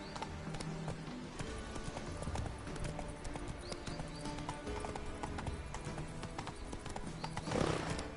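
Roach, the horse from The Witcher game, galloping with fast, continuous clip-clop hoofbeats close by, a brief snort or whinny near the end.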